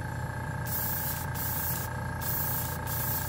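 A cheap tank-style air compressor runs steadily alongside an airbrush with a fan cap, giving a continuous close mechanical hum with a constant hiss, and bursts of spray come and go in a regular on-off pattern.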